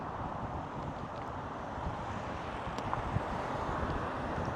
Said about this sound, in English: boy, it's windy out here